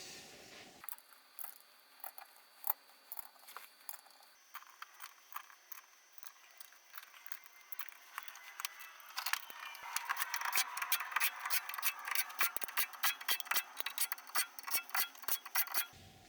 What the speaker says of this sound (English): all torqued to spec and in the correct sequence